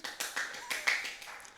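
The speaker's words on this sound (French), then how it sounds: "Applaudissez le public." Applause from a small studio audience on a French talk-show set: a thin, scattered run of separate claps, quiet and close, lasting under two seconds.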